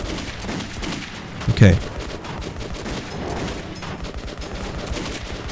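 A single loud gunshot from a weapon in the video game Metro 2033 cracks out over a dense, busy game soundscape, with someone briefly speaking nearby.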